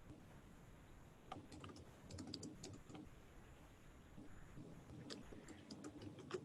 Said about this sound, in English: we're just typing into the chat box right now